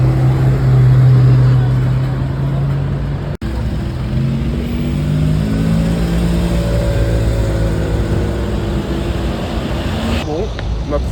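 A Porsche GT4 RS sports car engine roars loudly near the road, its revs sweeping up and down as it passes, with a brief cut midway and roadside noise throughout.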